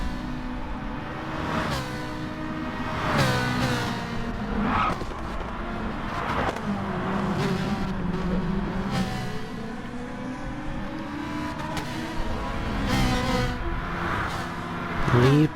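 Race car engines at Bathurst in a racing video game, several cars droning and revving steadily with rising and falling pitch as they run in a line through the midfield, continuous and fairly loud.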